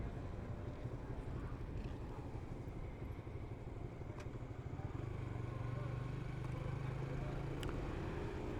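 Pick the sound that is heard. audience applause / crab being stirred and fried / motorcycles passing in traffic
motorcycles passing in traffic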